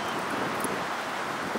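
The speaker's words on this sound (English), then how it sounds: "Super windy." Strong wind at the beach buffets a cheap microphone, producing a dense, constant roar of wind noise with no pauses and no speech.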